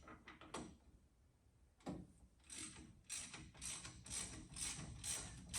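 Ratcheting wrench work breaking loose a brake caliper bolt on a 1963 Mercury Meteor during a drum-to-disc brake conversion: a few sharp clicks early on, then a run of rapid, close ratchet clicks with no talk.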